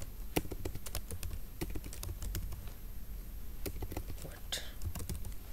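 Code being typed on a computer keyboard while setting up React role-based routing: clustered, uneven keystrokes with quiet room tone and no speech.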